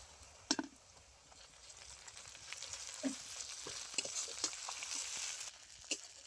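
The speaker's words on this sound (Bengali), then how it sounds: "পেঁয়াজটা খুব ভালো করে লাল লাল করে ভেজে নিয়েছি, এবার দিয়ে দিচ্ছি আদা রসুন বাটা পরিমাণ মতো।" Browned onions sizzle in a pan as ginger-garlic paste goes in for a rohu fish and potato curry: a steady frying hiss with stirring scrapes and a few sharp clinks of the spoon.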